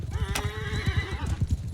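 A horse whinnies loudly in a mounted-archers battle game, a shrill falling neigh over rapid hoofbeats and clip-clop that keep thudding throughout.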